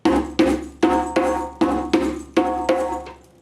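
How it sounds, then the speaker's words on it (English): Hand-struck djembe playing tone and slap strokes: eight sharp, ringing hits in a steady, even rhythm, each a loud crack with a quick decay, close and alone. "the other 2 sounds that djembe make is the tone and slap,"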